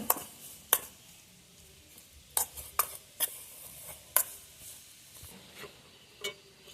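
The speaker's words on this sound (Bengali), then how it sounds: "এখন সব কিছু একসঙ্গে ভালোভাবে মিক্স করে নেব" Pea filling is mixed with salt and chopped coriander in a bowl, a spoon giving soft scraping stirs and occasional sharp clinks against the rim, close and quiet.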